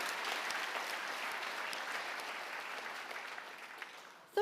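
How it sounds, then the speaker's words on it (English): Audience applause at the 2025 APA Heritage Awards ceremony in San Francisco, a dense, steady wash of many hands clapping that slowly tapers toward the end. "Let's give the Youth Commission an applause of appreciation."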